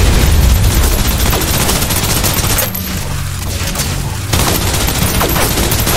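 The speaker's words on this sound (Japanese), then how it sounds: "制圧射撃を始める。" Sustained suppressive gunfire in the video game Snowbreak: Containment Zone, a loud dense barrage that briefly thins in the middle before resuming at full intensity.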